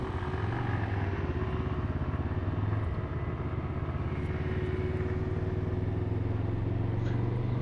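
A CF Moto Nuda motorcycle engine drones steadily while riding, a loud continuous low rumble with a rapid firing pulse and wind noise throughout, no talk over it.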